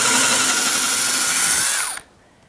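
A power drill whines loudly as it bores into wood for about two seconds, then winds down and stops, leaving near silence.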